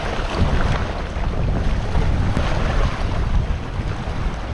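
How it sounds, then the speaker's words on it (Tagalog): Strong wind buffeting a small fishing boat out at sea: a loud, steady roar of gusts and microphone wind noise over the wash of waves, constant for the whole stretch. "Malakas ang hangin."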